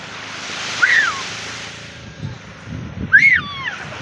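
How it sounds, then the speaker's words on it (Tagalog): Strong wind blows over a calm sea on a fishing outing, a rushing, buffeting roar against the microphone with two short rising voice sounds and some low thumps. "Medyo kalma naman, kaya lang medyo malakas-lakas pa rin ang hangin."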